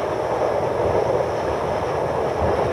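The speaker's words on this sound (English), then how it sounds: "A rare glimpse as we pass 4002, one of the first class of mainline diesels on a down goods." An NSWGR steam train rolling past diesel 4002, hauling a down goods train, gives a steady, loud, close rumble of wheels and rolling stock, unbroken and without voices.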